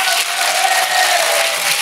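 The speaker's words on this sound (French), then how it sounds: "C'est très très rare que le public applaudisse cette phrase." Studio audience at a French television talk show breaks into applause, a dense, steady wash of clapping that stays loud and even throughout the short stretch.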